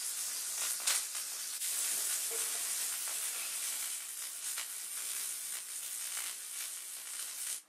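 Red deer fillet searing in a hot pan, a steady close sizzle and crackle of frying with bursts of spitting, continuous throughout with no voices.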